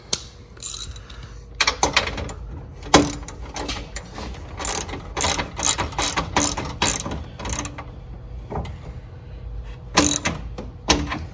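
A 15 mm ratchet wrench tightening nuts and bolts while assembling a 125cc mini jeep, with bursts of rapid metallic clicking close by, repeated in quick strokes and broken by short pauses.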